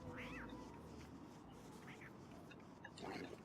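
Catcoon creatures in the survival video game Don't Starve make short chirping, meow-like cries over a steady ambient game background, with a couple of calls near the start, another midway and a louder one toward the end.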